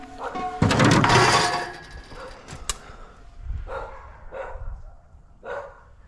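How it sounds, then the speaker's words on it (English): Neighbours' dogs bark in short separate bursts a few metres off, trailing into scattered yips after a loud stretch of clatter near a pile of trailer wheels. "Neighbors' dogs are annoying."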